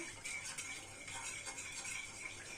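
A spoon stirs a homemade pickle mixture of water, pepper, celery and garlic in a container, giving a continuous soft scraping and light clinking, close and steady, with no talk.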